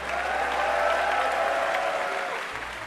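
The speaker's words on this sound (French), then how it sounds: "On peut les applaudir bien fort pour leur donner de la force." Steady, fairly loud crowd applause at a strongman competition, continuous throughout and easing slightly toward the end.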